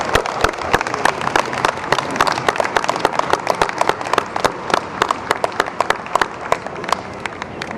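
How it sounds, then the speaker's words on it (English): Audience applause for Master of Communication graduates at a 2016 graduation celebration, individual claps standing out sharply and irregularly over a softer crowd bed, sustained for several seconds. "Please join me in another round of applause for our Masters of Communication graduates."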